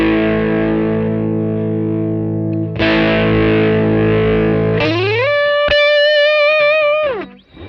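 An electric guitar played through a Minson M8 multi-effects pedal set to its King Brown overdrive, with compression and reverb, rings out in loud sustained distorted chords, then bends into a high wavering note that fades.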